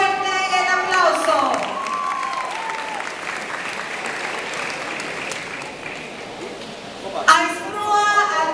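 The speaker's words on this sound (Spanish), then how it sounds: "¡Fuerte el aplauso!" Graduation-ceremony crowd at a school breaks into a long, dense round of applause and cheering that fills the hall, with a voice speaking over it at the start and end.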